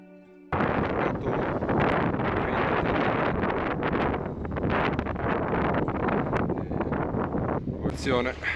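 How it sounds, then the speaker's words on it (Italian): Strong wind gusts over the sea beside a fishing boat in Liguria's Baia di Paraggi in February. A loud, continuous buffeting roar bursts in after a brief quiet start, with a thin high whistle near the end. "Il vento forte,"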